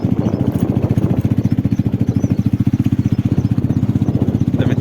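Steady, close engine drone of a TVS Victor motorcycle while riding toward a farm field, with a fast even firing pulse holding constant throughout, no talk.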